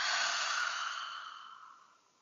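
One long, soft exhalation blown out through the mouth, close and breathy, holding steady and then tapering off to silence, with no talking.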